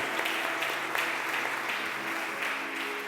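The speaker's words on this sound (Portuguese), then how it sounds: "Pode aplaudir aí o Senhor" A church congregation applauds during a service, a soft, fairly distant wash of clapping held at an even level, with a faint sustained tone and low murmur underneath.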